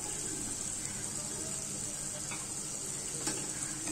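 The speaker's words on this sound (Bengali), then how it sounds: "ভালো করে নেড়েচেড়ে মিশিয়ে দিচ্ছি।" Chicken curry with a fried spice mix stirred in a pan, a steady soft sizzle with faint scraping running throughout at a close, even level.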